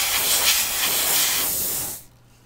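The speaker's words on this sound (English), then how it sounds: "I use that compressor also when I'm engraving." An air compressor of the kind used for engraving parts on a Tamiya Volvo FH12 1/14 scale RC truck kit gives a steady, loud hiss of air for about two seconds, then cuts off abruptly and leaves a faint low hum.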